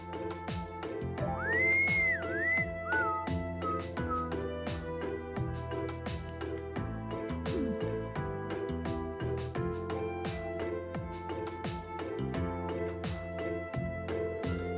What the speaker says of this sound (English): That innocent whistling isn't fooling anyone.